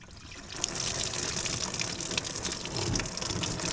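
Coolant gushing from a car radiator after the lower hose is pulled off, a steady rushing, splattering stream of liquid, close and fairly loud, with no talking.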